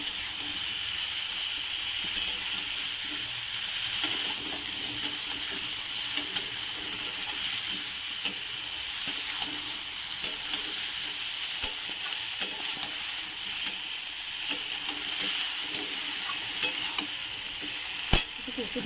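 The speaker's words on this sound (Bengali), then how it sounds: "মশলাটাকে একটু কষে নিতে হবে।" Mustard and poppy seed paste masala frying and being stirred in a pan for Bengali shukto, a continuous close sizzle with steady spoon scrapes and soft pops throughout.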